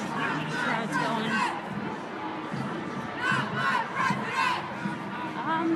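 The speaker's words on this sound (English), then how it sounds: "Still a pretty big crowd crossing the street." A large crowd of Donald Trump protesters in a downtown Springfield street, a dense, steady wash of many voices with bursts of shouting and chanting rising and falling throughout, fairly close and continuous.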